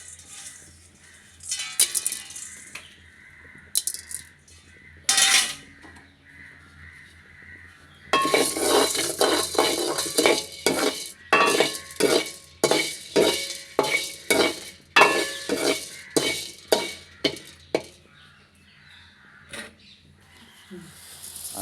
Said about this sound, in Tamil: அம்மா அதை எடுத்து சட்டியில் போட்டு லைட்டாக வறுத்தா அதோட மிளகு சேர்த்து மஞ்சள் மிளகு சேர்த்து லைட்டாக செஞ்சு விட்றா